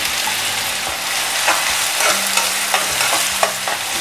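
Finely chopped onions sauté in a pan with oil as a spoon stirs them, a steady close sizzle broken by soft scraping strokes and light taps against the pan.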